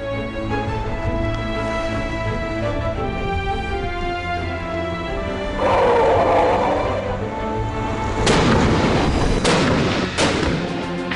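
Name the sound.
artillery gunfire on West Coast islands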